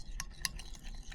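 A spoon stirs oyster sauce, sugar, water and cornstarch together in a small dish, giving a few soft scrapes and two sharp clinks against the side over a low background hum.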